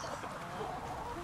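Chickens cluck softly in a flock close by, a few scattered clucks over a continuous background of rustling and murmur.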